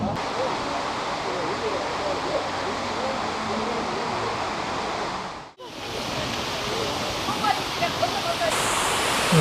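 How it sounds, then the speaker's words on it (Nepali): Artificial man-made waterfall outdoors in spring: a loud, steady rushing roar of falling water that briefly cuts out midway and then resumes, close and continuous, without talk. "यो रहेको छ नक्कली झरना यहाँ यो चाहिँ सक्कली होइन मानव निर्मित झरना"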